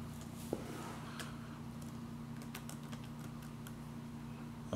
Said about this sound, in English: can I type that in?